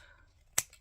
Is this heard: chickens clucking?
no